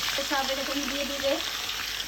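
Marinated chicken for korma hitting hot oil in a kadai, a soft sizzle under a brief rising whistle-like tone, with a voice faintly in the background.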